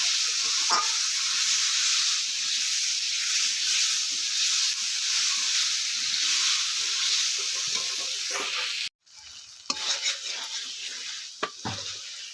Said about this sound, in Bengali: যে টমেটোটা কেটে রেখেছিলাম সেই টমেটোটাও দিয়ে দিচ্ছি এবার সব আমি একসাথে ভালো করে এটা কষিয়ে নেব